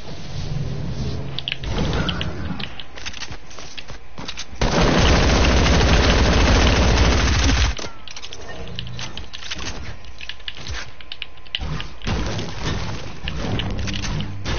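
Gunfire in a video game, with repeated loud bursts of shots over several seconds, including one long dense stretch of rapid fire in the middle.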